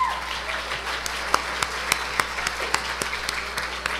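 Sparse applause at a gala dinner, with scattered distinct hand claps standing out over a low hum of a room, individual claps close and uneven rather than a full ovation.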